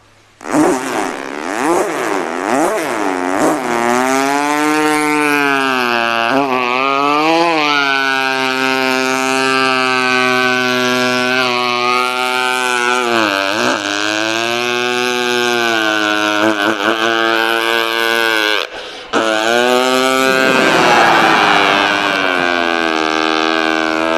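A voice imitates two motorcycles racing, sustained buzzing engine tones rising and falling in pitch like revving and shifting gears, loud and continuous.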